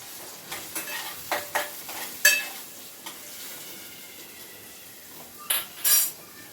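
Chopped onions and green chillies being stirred in a pan for an egg pulusu, with intermittent scraping strokes and sharp utensil clinks over a soft, low sizzle.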